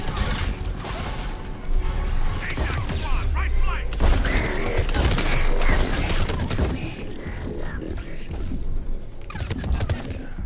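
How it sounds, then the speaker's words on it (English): Gunfire and explosions in the video game Mass Effect 3, during a mission to rescue the Turian Primarch, dense loud bursts and booms through a busy combat mix with no pause. "Who's shooting at me?"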